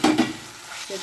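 Ground tomato goes into a hot pan of Chettinad crab gravy base, hissing and sizzling loudly at first, then settling into a steady frying sizzle with a brief stir at the end.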